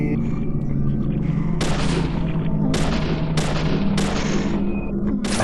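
A cartoonish stock gunshot effect from the video game Deadly Premonition fires about six times in irregular succession, each a sharp crack with a short tail, over a steady bed of game music and ambience.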